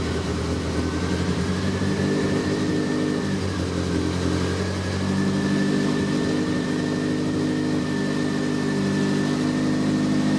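A cold 1983 Volkswagen Rabbit GTI engine idles steadily up close, a continuous mid-pitched hum with a faint high whine and a slight rise in level partway through, no voices.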